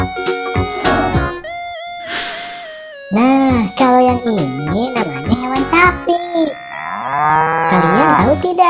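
A cow moos repeatedly in long, loud, wavering calls, several separate lowing bellows with short pauses between them, close and clear with no talk over them.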